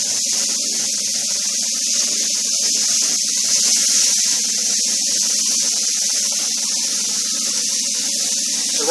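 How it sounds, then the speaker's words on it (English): A chuck roast sears with a steady, loud, unbroken hiss that holds at the same level throughout, with no voices over it. "Getting a nice sear on it."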